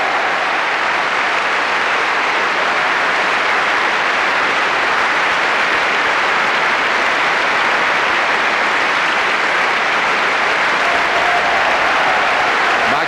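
Sustained applause from a large concert-hall audience at a Proms concert, a dense, steady wash of clapping that holds at full strength for the whole stretch without letting up.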